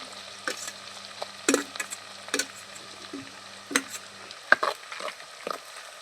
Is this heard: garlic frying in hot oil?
yes